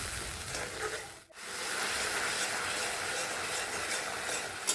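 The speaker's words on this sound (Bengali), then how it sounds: "এবার খুব ভালো করে এই মশলাটিকে কষিয়ে নিচ্ছি" A spice paste of ginger, cumin and green chili sizzles steadily in a pan, a close, even frying hiss that is briefly interrupted once, then continues without any talk.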